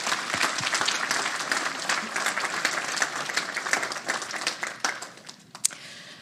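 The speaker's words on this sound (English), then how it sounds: "let's give a big round of applause to all the planners of this event" Audience applause for the planners of an event at a welcome session, a full room clapping loudly with distinct individual claps standing out, thinning and tapering toward the end.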